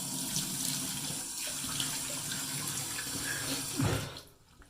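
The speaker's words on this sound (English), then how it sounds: "So I'm going to wet the face here." Tap water runs steadily into a sink while a face is wetted before shaving, a close, continuous splashing hiss with small shifts in the flow before it stops near the end.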